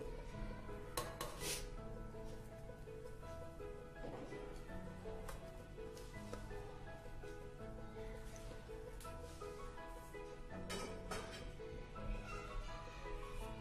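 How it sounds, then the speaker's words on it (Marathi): Raw green mango slices tumble into a steel mixer grinder jar, giving a steady run of clinks, clatters and rattles over a busy kitchen background. "आता आपल्याला एक मिक्सरचं जार घ्यायचं आहे, त्याच्यामध्ये आपण ह्या सर्व कैरीचे जे काप केलेले आहेत ते घालणार आहोत"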